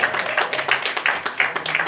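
Audience applause at a 2024 journalists' association legislative awards ceremony and year-end evening: a dense, steady patter of many hands clapping in a hall, moderately loud and sustained without a break, with no talk over it.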